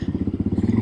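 A 1986 Yamaha XT 350 motorcycle rides around a parking lot, its single-cylinder engine thumping in a rapid, even low pulse, close and fairly loud with no talk.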